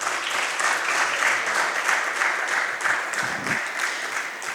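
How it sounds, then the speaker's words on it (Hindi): After a theatre performance, an audience breaks into sustained applause, many hands clapping in a steady, full wash with one brief low thump partway through. "ताली बनती है।"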